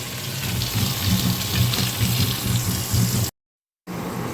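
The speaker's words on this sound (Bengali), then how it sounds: "এই যে বড়াগুলো ভেজে নিচ্ছি" Bora fritters frying in a pan, a steady bubbling hiss of oil that cuts to silence for about half a second before resuming.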